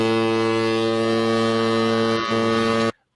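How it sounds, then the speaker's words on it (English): A loud, steady alarm horn blares as one sustained tone with rich harmonics for about three seconds, briefly dipping near the end before cutting off abruptly into silence. "I'm going to sound the alarm right now,"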